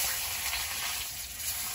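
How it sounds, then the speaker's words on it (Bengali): Flat silver fish fry in a pan, giving off a dense, even sizzle up close, loud and continuous with faint crackles and no talking over it. "এবার এই মাছগুলো ভেজে নেব"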